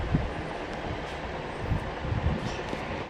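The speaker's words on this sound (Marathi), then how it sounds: "ट्रेन आली आहे आता." A train arriving at a station, its low rumbling rattle of railcars steady and moderately loud for a few seconds with no talk.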